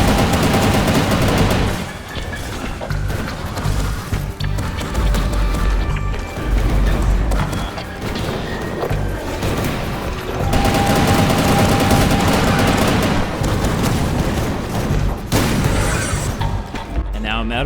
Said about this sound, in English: And now I'm out of machine gun ammo.